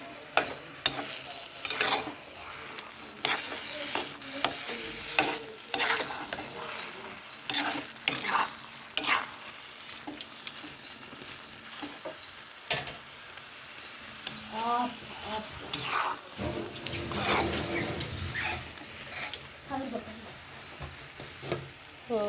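Taro leaves (kochu shak) sizzle steadily in a pan while being stirred, with repeated sharp scraping strokes over continuous frying hiss, close and fairly loud, without talk.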